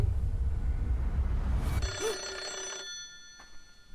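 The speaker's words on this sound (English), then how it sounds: "You guys can stay on a ringing phone for a few minutes" A loud telephone rings in a horror video game, a bright electronic bell tone starting partway through after a low rumbling ambience, with a couple of sharp ring bursts close up and no talking.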